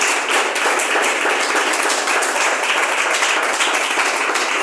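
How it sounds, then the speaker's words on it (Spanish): A church congregation claps steadily and densely, a continuous even wash of applause held at a constant level from start to finish. "le devuelve las palmas al Señor"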